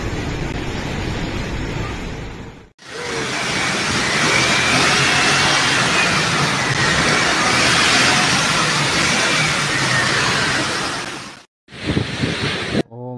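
Strong wind from Typhoon Marce roars over Cagayan in the Philippines, loud and buffeting the microphone in a long sustained blast that cuts off abruptly, then returns briefly in gusts.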